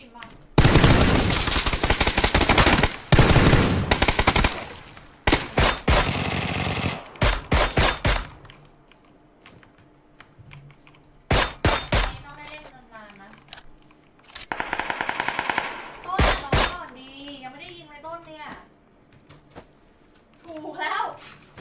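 Mini 14 rifle fire in a video game, with long rapid bursts and separate sharp single shots close and loud, broken by gaps, with a young voice talking between volleys.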